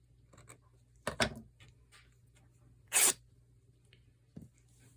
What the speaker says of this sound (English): I gotta tear the selvage off